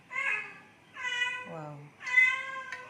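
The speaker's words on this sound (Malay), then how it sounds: "Kucing saya tuh guys, dia pandai membebel ya." A chatty pet cat, vocal even after being fed, lets out three close, clear meows in a row, one of them lower and more grumbling, with no one talking.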